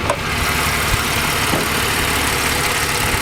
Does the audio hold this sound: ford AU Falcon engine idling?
yes